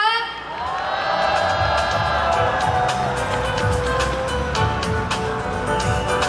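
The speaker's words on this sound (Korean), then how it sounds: "큰 박수와 환호 부탁드리겠습니다" A rally crowd in Incheon cheers and applauds loudly, a dense, sustained wash of clapping and shouts with whistles and whoops.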